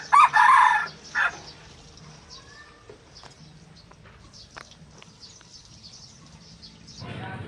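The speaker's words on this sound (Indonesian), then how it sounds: "ada ayam babon sama ayam jago teman-teman" A hen and a rooster: loud crowing right at the start, then a short cluck, with quieter clucks and faint rustling after that.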